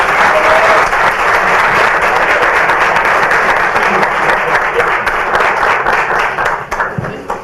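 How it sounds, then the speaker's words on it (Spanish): Loud, dense applause from an audience at a book presentation runs continuously for about seven seconds before thinning out into scattered claps at the end. "Un aplauso para ellos"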